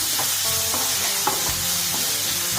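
Onions and curry leaves frying in a pan with salt, a loud continuous hiss of hot oil with soft spoon strokes stirring through it, close and steady.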